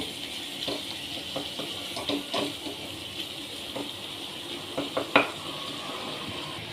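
Crushed kasuri methi and spices are sautéed in a pan for a Vidarbha-style patwadi rassa. A soft, even sizzle is punctuated by a few scraping stirs, and one sharper scrape stands out near the end.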